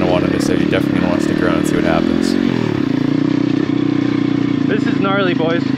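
An Apollo RFZ dirt bike engine drones steadily during a riverbed hill climb, buzzing and revving near the microphone while a rider talks over it.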